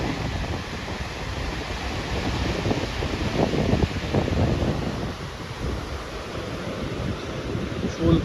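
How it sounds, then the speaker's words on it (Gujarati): The flooded Sabarmati river rushes past a dam with its gates open, a steady broad roar of heavy flowing water mixed with wind buffeting the microphone, with no voices. "બે કાંઠે નદી વહેતી છે."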